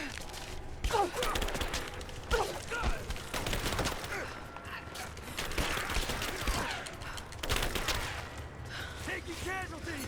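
Gunfire in Rise of the Tomb Raider crackles in repeated bursts of sharp shots, dense and close, mixed with shouting voices and other combat noise.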